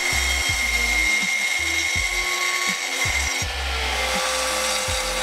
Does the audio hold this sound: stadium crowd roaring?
no